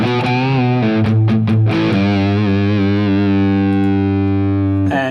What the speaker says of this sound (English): And by the way, without any pedal, the amp sounds like this.